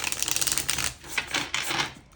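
Tarot cards shuffled by hand during a reading, giving a quick, dense run of crisp riffling clicks and flutters that fades and returns in short bursts, close and fairly loud with no talk.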